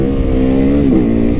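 Motorcycle engine droning loud and close while riding through country neighborhoods, a steady harmonic rumble with a slight pitch shift as the throttle changes.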